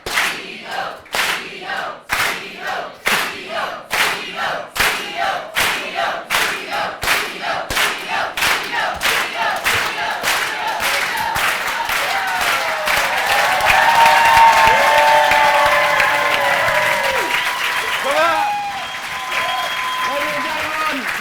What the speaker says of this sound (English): I want you to start a very slow clap.